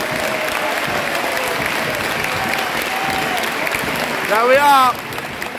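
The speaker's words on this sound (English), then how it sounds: "You see the applause he gets." Football crowd at a Doncaster Rovers versus Cheltenham Town League One match applauding a substituted former striker, a steady wash of clapping across the stadium under commentator talk, with a brief louder swell near the end.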